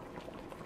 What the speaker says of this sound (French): j'ai laissé mijoter 15 à 20 minutes à feu doux